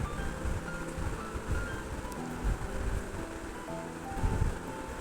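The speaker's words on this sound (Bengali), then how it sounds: "ভাজা হয়ে গেলে গরম ফুটন্ত পানি দিয়ে নিব 9 পট" Boiling hot water poured into rice frying in a pot for tehari gives a steady, rushing sizzle that holds at an even level throughout, with no voices.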